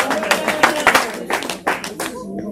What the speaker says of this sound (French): Je vois même un papa en train d'acclamer pour les mamans.